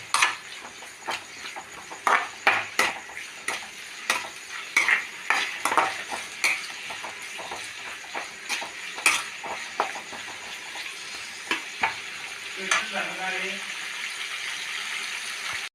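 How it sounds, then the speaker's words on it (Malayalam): Curry leaves, garlic, ginger and salt frying in a pan alongside chopped onion, with steady sizzling broken by repeated sharp scrapes and clinks of a spoon stirring against the metal, close and fairly loud. "വേപ്പില, വെളുത്തുള്ളി, ഇഞ്ചി, കുറച്ച് ഉപ്പും കൂടി ചേർക്കുന്നുണ്ട് ഫ്രൈ ആവാനായിട്ട്"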